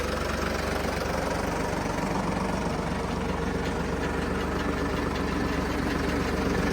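A Ford 3600 tractor engine running a generator idles and drones continuously with a low rumbling vibration, close by and constant throughout, with no voices.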